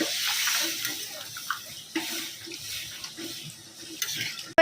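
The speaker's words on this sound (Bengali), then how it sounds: "এবার এর মধ্যে দিয়ে দিচ্ছি জল বেশ ভর্তি করে জল দিয়ে এটাকে জাস্ট ফুটতে দেবো" Water poured generously into a pot of turmeric set to boil, a steady splashing rush with slight clinks of the pot, continuous and close for a few seconds before a sharp knock at the end.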